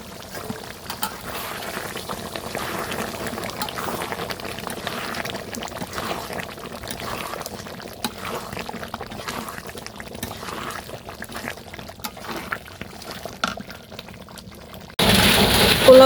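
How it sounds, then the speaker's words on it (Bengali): Rice being washed in water for biryani, a steady, continuous sloshing and pouring wash of water, fairly loud and close, with a sharper louder burst right at the end. "চালটা হচ্ছে সুন্দর মতো ধুয়ে নিতেছি"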